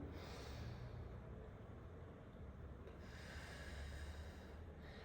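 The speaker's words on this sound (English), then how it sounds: "And then breathe in." A slow, deep inhalation and exhalation during a breathing exercise, two long soft airy breaths, quiet and close, with no talking.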